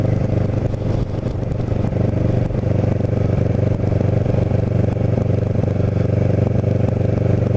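A Kawasaki Ninja 650R motorcycle riding through The Villas, NJ, its engine a steady, loud drone with constant wind rush and road rumble throughout, no voices.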